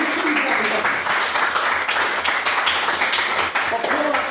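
A debate audience claps after a vote is announced: dense, steady applause filling the whole stretch at moderate volume, with some voices faintly mixed in.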